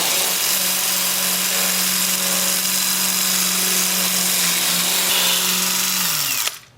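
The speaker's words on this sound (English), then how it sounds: "my 2-inch disc with the piece spinning in reverse at about 330" A 2-inch sanding disc is pressed against a large ponderosa pine piece spinning in reverse on a wood lathe, producing a loud, steady droning hum that stops abruptly near the end, with no talk.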